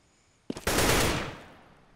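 Gunfire in the video game CS:GO: after a short quiet lead-in, a couple of sharp shots crack out, then a loud sustained burst that slowly fades over about a second, heard alone with no talking.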